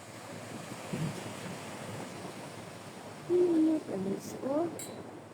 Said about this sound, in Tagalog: Isa pala siyang dagat